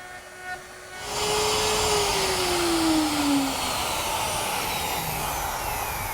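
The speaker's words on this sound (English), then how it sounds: "I route out the material between the fingers on the jig," A router with a straight cutting bit cuts out the waste between dovetail jig fingers to form pins for a dower chest. After a quiet start, a loud, steady, close whine and hiss of cutting runs on without a break.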